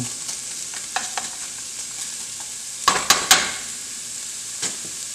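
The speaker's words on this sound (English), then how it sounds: "we're going to let these vegetables cook some." Vegetables cook in a soup pot for beef barley soup, giving a steady quiet sizzle with a few sharp clinks and stirring scrapes near the middle. No one speaks.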